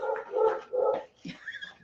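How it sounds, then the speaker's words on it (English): Indoor dogs let out a quick run of soft, fairly faint barks and yips, ending in a brief higher whimper. "Especially when I'm being serenaded by such 2 beautiful, well-behaved dogs."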